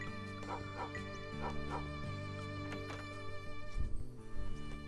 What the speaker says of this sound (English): Oh, there's two dogs.